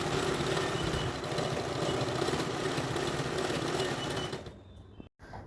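Sewing machine running continuously while hemming the edges of a saree, a dense close whirring drone that stops abruptly near the end, followed by a brief quiet gap and faint rustle.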